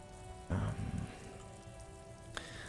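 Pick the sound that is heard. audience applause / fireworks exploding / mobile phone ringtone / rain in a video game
rain in a video game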